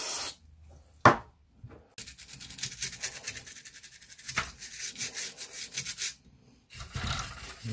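A brush scrubs a Sega Mega Drive circuit board wet with contact cleaner, giving rapid rhythmic scratchy strokes in long bursts with short pauses and a sharp click early on, close and without talking.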